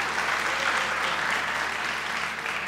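Studio audience applause on a comedy talk show, steady dense clapping sustained at an even level throughout, with no voices over it.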